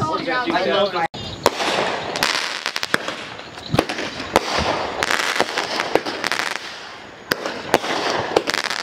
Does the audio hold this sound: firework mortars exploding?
yes